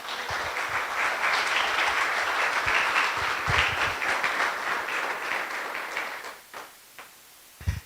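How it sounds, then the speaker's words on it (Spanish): A church congregation gives a long round of applause, dense clapping that holds steady for about six seconds, then thins out into a few scattered final claps. "Voy a dar un aplauso al Señor."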